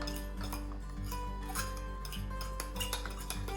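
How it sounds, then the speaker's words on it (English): A utensil clinks and scrapes steadily against a pot while stirring cornstarch into milk, close up, over a low constant hum. "Now mix that in the milk very well."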